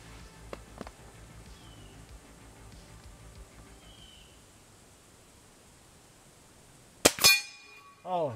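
A .177 Crosman F4 Nitro Piston air rifle pellet strikes a metal mouse target with a bright ringing clang, followed by a second metallic ping after a long quiet outdoor stretch with faint earlier clicks.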